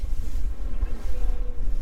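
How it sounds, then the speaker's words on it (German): Motorboat cruising on the Brisbane River, a constant low rumble of engine and water mixed with wind buffeting the microphone. "Ein bisschen mit dem Boot umeinander schippen"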